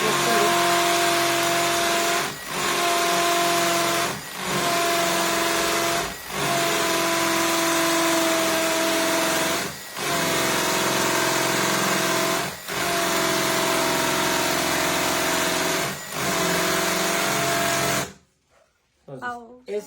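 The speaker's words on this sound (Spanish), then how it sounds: "Ese es el golpe que genera un taladro percutor." A Makita hammer drill bores a hole with a steady, loud, droning whir, briefly dipping in regular pauses about every two seconds, then cutting off abruptly near the end.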